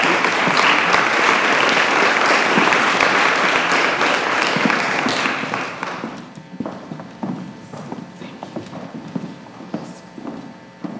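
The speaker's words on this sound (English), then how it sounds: "Let's give them a round of applause." An audience at a Columbus city council meeting applauds loudly and steadily for about five seconds. The clapping then thins out into scattered, quieter claps that trail off over the next several seconds.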